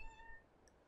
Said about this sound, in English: Oh dear, my cat is meowing severely.